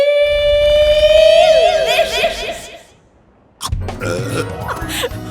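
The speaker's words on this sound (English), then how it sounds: "Snow burps." A long, loud, drawn-out burp after eating snow on a mountain rings out up close, followed by a short pause, then chuckling and a bit of talk.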